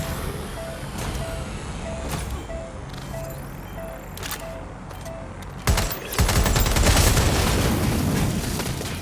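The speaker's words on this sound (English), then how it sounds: "Shots fired! Shots fired!" Gunfire in the Watch Dogs: Legion video game: a dense burst of shots erupts late, loud and sustained, after a stretch of quieter ambient game noise with faint tones.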